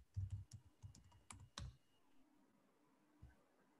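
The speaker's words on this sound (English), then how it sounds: "I'm just typing here." Quick bursts of clicks from a computer keyboard being typed on, close and fairly quiet, in a rapid uneven run of keystrokes that stops, leaving a near-silent pause broken by one last tap.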